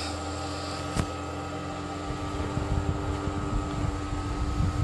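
A small electric fan powered by a solar panel hums steadily at close range, a constant whirring drone with faint rattles and no speech.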